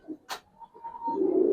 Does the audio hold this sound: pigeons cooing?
yes